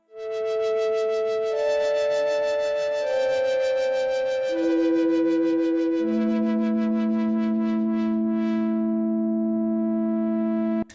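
A dry Korg Minilogue synth patch with no effects plays a slow sequence of held chords, each changing every couple of seconds, clean and sustained until a brief cutoff at the end.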